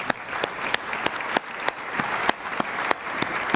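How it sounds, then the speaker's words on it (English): A small crowd at the 2013 Mackinac Policy Conference claps steadily, a dense patter of hands with a few sharp, louder claps standing out, continuous and fairly close, with no talking. "Let's give them a round of applause."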